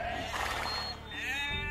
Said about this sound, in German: Hier ist nochmal ein Schaf, das ist schon mal gut.